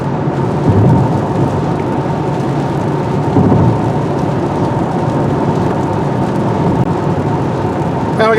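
Rain drums on a 2023 Toyota Camry Hybrid Nightshade driving at night, a dense steady wash of road and rain noise with low rumbles swelling now and then.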